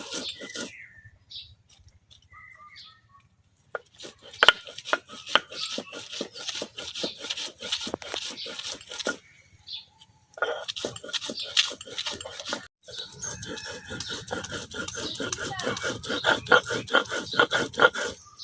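Chillies and ginger are ground by hand on a stone slab, a rapid, rhythmic rasping and rubbing of stone on stone in close bursts separated by short quiet pauses, with faint bird chirps in the background.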